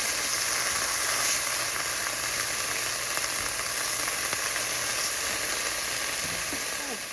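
Food sautés in just a tiny bit of oil in a pan, giving a steady, close, even sizzle that holds for the whole stretch with no voices.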